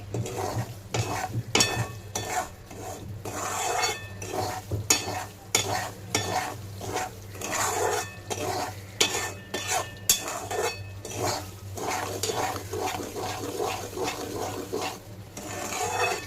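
Semolina (rava) roasting in ghee in a pan for sheera is stirred steadily, with close, repeated scraping and rasping strokes over a low frying sizzle, continuous and fairly loud with no talking.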